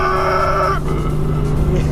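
A Ford Mustang engine cruising in fifth gear, a steady loud drone with road and wind noise that shifts tone partway through.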